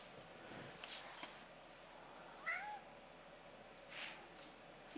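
A house cat makes a few short, faint meows in a quiet room, spread out over a low background hiss, with no speech.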